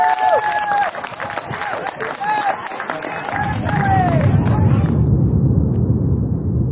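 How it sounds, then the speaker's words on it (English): Onlookers at a Kilauea lava fountain viewing spot near Volcano House in Hawaiʻi Volcanoes National Park whoop and cheer, then a broad wash of clapping and crowd noise swells and holds steady to the end. "A crowd of onlookers cheered the finish of the event."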